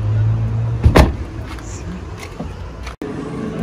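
A car door swings shut with a single solid thump near the end, after the muffled rustle of someone settling into the vehicle and a short whir in the cabin.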